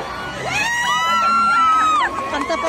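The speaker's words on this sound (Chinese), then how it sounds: "掌声欢迎！" Company dinner crowd cheering and whooping with excited shouts layered over one another, a loud, close burst of voices that swells and holds for a couple of seconds.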